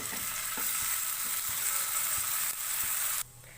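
Garlic-ginger paste frying in oil makes a dense, even hiss and crackle close up, continuing steadily before dropping away abruptly near the end.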